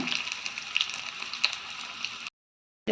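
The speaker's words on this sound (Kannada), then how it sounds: "ಸಾಸಿಮೆ ಪುಡವನ್ನ ಸೌಂಡ್ ಕೇಂಡೆಣ್ಣೆ" Mustard seeds pop and crackle in hot oil for a tempering, a close steady sizzle dotted with sharp little spits, running about two seconds before cutting to silence.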